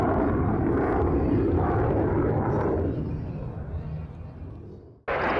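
A US Air Force PACAF F-16 demo jet makes a rainy flyby at Yokota Air Base, Tokyo, with a loud, broad roar that swells and slowly fades over several seconds before cutting off abruptly.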